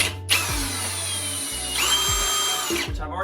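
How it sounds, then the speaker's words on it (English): Power drill boring through an aluminum shower door frame during a bifold glass door install, running in steady whining bursts with short pauses and a change in pitch partway through, loud and close. "you need to go through and drill through the aluminum"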